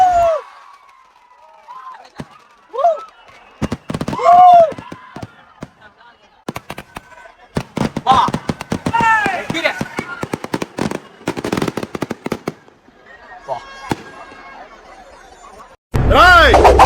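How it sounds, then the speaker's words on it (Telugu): Firecrackers burst at a festival in repeated sharp bangs and crackling volleys, some close and loud, mixed with crowd chatter and cheering. "ఈ టపాసులు చూడడానికే చాలా దూరం నుంచి వస్తారు"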